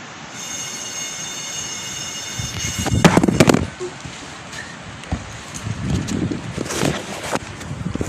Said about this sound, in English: Sorry, a little windy.